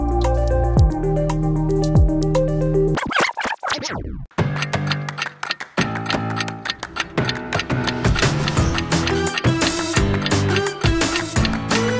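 Water in an ice bucket during a waterproof label test: first a steady tonal hum, then a burst of sloshing, and after that loud close dripping and squishing splashes that keep going until the end.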